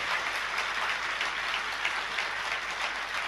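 Audience applause at a religious discourse, a steady, even patter of many hands clapping that holds at moderate volume throughout with no voices.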